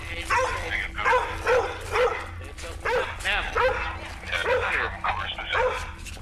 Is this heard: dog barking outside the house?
yes